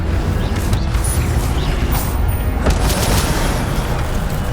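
Incendio fire spell in the Hogwarts Legacy video game, heard as loud, dense roaring booms and crackling blasts that continue steadily throughout, close and full.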